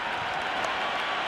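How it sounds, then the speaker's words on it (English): Stadium crowd in a cricket video game roaring and applauding in a dense, steady wash of cheering, a brief burst with no distinct voices. "It's evident and ever so audible that the crowd is at near bursting point at today's play"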